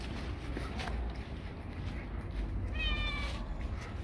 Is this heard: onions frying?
no